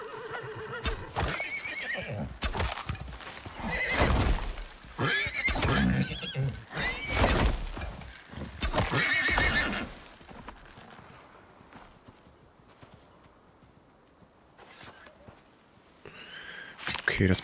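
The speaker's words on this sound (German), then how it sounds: "Nee, es kommt noch ein Pferd einfach." A horse in the video game ICARUS whinnies loudly several times among clopping hooves, with bursts that fade toward a quieter stretch before picking up again, while someone talks in German over the game sounds.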